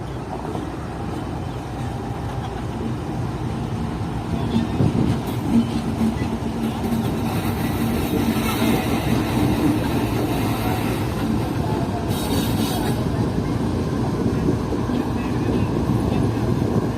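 A train pulls into Jalal Mali railway station in Pakistan on a loop line, hauled by a relief engine with a dead engine attached, giving a long, steady rumble of rolling wagons near at hand, with people talking faintly nearby.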